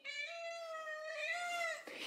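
A domestic cat lets out one long, drawn-out meow, close and loud, wavering slightly in pitch for about two seconds before breaking off.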